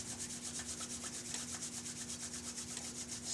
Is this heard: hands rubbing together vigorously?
yes